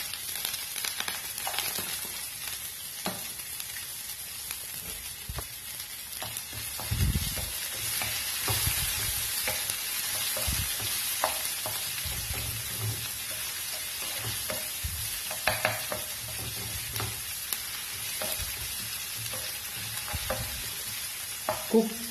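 Onions frying with asafoetida in a pan keep up a continuous sizzle over about twenty seconds, marked by scattered scraping and clinking stirs of a spoon, moderately close, with no voices.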